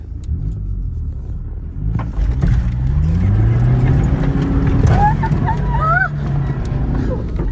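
A car stuck off-road roars at full throttle in first and then second gear, its engine loud and close with a climbing, strained rev that holds high, plus brief squealing chirps near the end.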